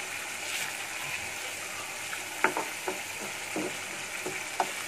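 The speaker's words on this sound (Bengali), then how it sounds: "ডিমগুলো নেড়ে চেড়ে দুই মিনিট রান্না করবে" Eggs are stirred and fried in a spiced tomato masala: a soft, continuous sizzle broken by several sharp spatula taps and scrapes against the pan, close and irregular.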